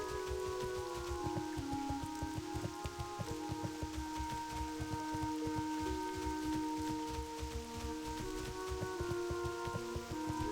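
Steady rainfall in the World of Warcraft Classic game world, a constant quiet patter beneath layered ambient music tones, with no talking.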